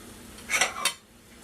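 A lid set down on a pan of eggs and melting cheese, a couple of close metallic clanks in a quick burst, then quiet.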